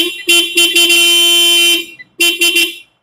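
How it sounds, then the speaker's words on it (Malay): A car horn, triggered during a test with a power probe pen, sounds loud and close in a long steady blast with brief stutters, then falls silent before a second shorter blast. "Oke, so horn ini oke."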